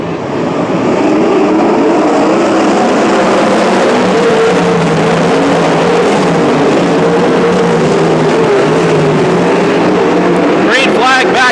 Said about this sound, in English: we'll have 24 laps of racing to go